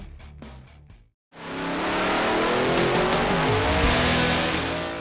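A twin-turbo Camaro on a DynoJet dyno runs up in a loud, sustained engine roar right after a brief silence, with the pitch climbing steadily through the run. Scattered sounds precede it.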